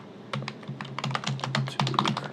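Fingers typing a prompt on a computer keyboard, a quick run of light, close key clicks in an uneven rhythm that grows slightly denser toward the end, with no speech.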